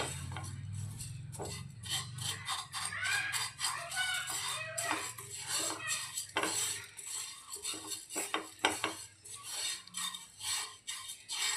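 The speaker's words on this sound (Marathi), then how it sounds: "मंद आचेवर आपल्याला हे असे छान असे भाजून घ्यायचे." Dry fruits and fenugreek seeds roasted on low heat in a pan, stirred with a utensil that scrapes and clinks against the metal in quick irregular strokes, close and fairly quiet.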